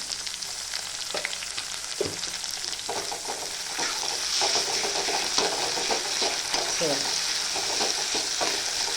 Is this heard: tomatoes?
yes